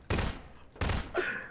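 Gunfire in Prop Hunt comes as two loud, close bursts of rapid shots, each lasting about a third of a second, followed by a sharp, ringing impact.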